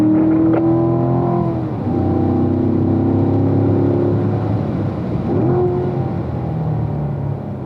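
A race car engine pulls hard after an upshift into fourth gear, a loud, close, sustained rising drone with a brief dip near the middle before climbing again, and no talking.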